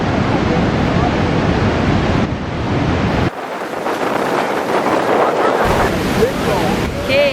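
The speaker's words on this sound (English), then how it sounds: "This is super windy." Strong wind roars and buffets the microphone on a tour boat near the falls at Niagara, a loud continuous rush mixed with surf and water noise, with a voice briefly audible.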